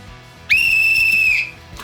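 A referee's whistle gives one sharp, shrill blast of about a second to start a lock-picking contest, loud and close, with faint background noise before and after.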